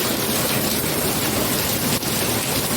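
Heavy rain pours down at night in a dense, unbroken hiss of drops, loud and close, with no break in the downpour.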